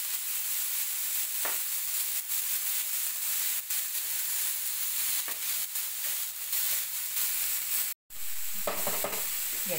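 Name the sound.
onion sautéing in pan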